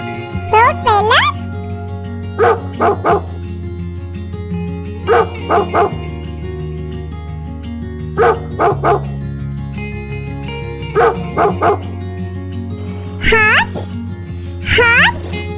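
A Rottweiler barks in short, repeated bursts of two or three, loud and close, over steady background music, with a voice heard briefly.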